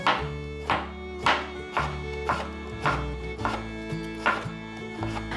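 Raw pumpkin, seeded and stemmed, sliced with a knife on a cutting board: about a dozen crisp chopping strokes in a steady rhythm, close and fairly loud, over a soft musical background.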